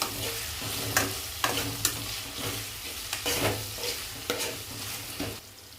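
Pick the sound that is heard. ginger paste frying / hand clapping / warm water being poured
ginger paste frying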